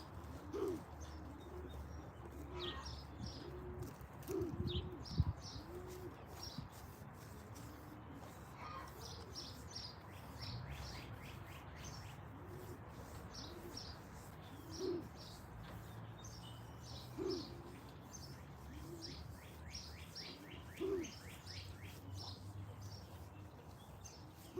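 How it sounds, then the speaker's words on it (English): Doves at a pigeon loft give soft, low cooing calls that repeat every few seconds, mixed with scattered chirping from other birds under a quiet background, with no one talking. "God, I hate when the doves go"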